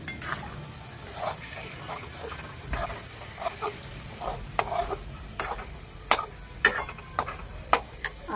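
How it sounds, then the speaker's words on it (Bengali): Pumpkin pieces fry in a pan with a soft, continuous sizzle, broken by sharp clinks and scrapes of a utensil stirring against the pan, growing more frequent toward the end. "এখানে কুমড়ো ভাজা বসিয়েছি"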